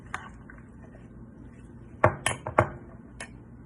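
Ceviche ingredients being mixed by hand in a bowl: a few sharp clinks and knocks against the dish in quick succession, close and fairly loud over a quiet background.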